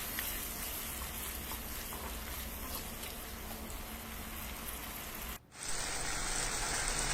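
Tomato and curry leaves sauté in a pan for sambar, giving a soft, steady sizzle close by that cuts out abruptly near the end before resuming with a brighter hiss.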